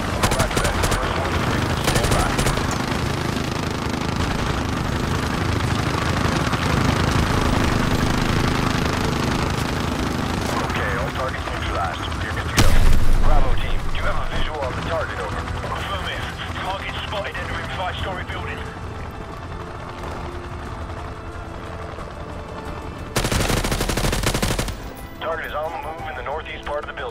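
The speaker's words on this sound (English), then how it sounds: "We are taking heavy fire from a fortified position on a fifth floor." Heavy gunfire from a fortified fifth-floor position in Call of Duty 4: Modern Warfare Remastered, dense bursts rattling on for long stretches, with two louder blasts breaking through and voices talking over the fighting.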